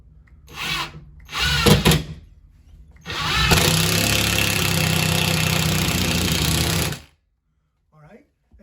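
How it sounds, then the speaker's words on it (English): A power drill whirs steadily for about four seconds after a couple of short bursts, close and loud, pre-drilling into wall studs, with talking just before it. "we are pre-drilling"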